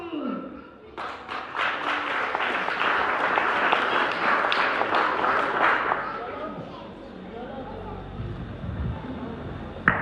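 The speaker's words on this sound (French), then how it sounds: "Applaudissez, s'il vous plaît, applaudissez." Applause from a crowd at a school graduation ceremony, a dense sustained clapping that swells for several seconds and then fades, with a voice speaking afterward.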